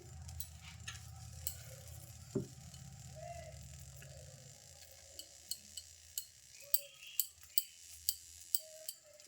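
A metal spoon clinks steadily against a bowl while pitha filling is mixed, with the sharp taps speeding into a regular rhythm near the end over quiet kitchen background.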